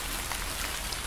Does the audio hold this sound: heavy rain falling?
yes